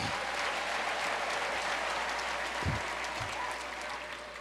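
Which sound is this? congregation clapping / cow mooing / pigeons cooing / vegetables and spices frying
congregation clapping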